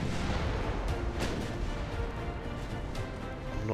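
Naval gunfire from battleships in Ultimate Admiral Dreadnoughts, a dense rumbling wash of distant cannon blasts with a few sharper bursts standing out, continuous and loud with no gaps.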